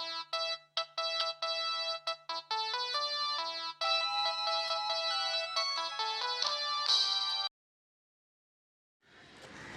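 A mobile phone's ringtone plays for an incoming call, a clear melodic electronic tune of repeated note bursts that cuts off suddenly, followed by silence and then a brief noise.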